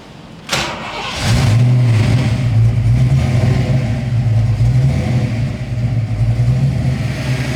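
A Ford Mustang Foxbody with an ongoing idle problem cranks briefly and catches, then its engine settles into a loud, steady, close idle that runs to the end without anyone speaking.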